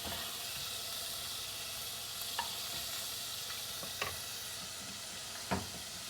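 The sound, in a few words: beef sizzling in a hot pan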